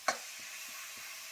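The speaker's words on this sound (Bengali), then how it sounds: "সমস্ত পেঁয়াজ ক্যাপসিকাম টমেটো সব কিছু দিয়ে আমি একসাথে ভালো করে মিক্স করে নেবো, মশলাটাকে ভালো করে সুন্দর করে কষিয়ে নেবো।" Onion, capsicum and tomato masala being stirred and fried in a pan for an egg-chicken curry. A sharp clink of the utensil opens it, then a soft, low sizzle with faint scraping stirs continues, close by and quiet.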